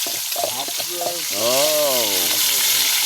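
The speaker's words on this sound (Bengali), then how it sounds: "মাছ কিন্তু আস্তে আস্তে ভাজ দিচ্ছে।" Fish fries slowly in hot oil, a steady close sizzle running throughout while a voice speaks over it.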